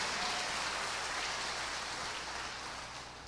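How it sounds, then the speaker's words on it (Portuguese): A church congregation claps at an evangelical service in Campo Grande, a dense, steady wash of applause that fades slightly toward the end. "uma salva de palmas pela agenda da nossa igreja"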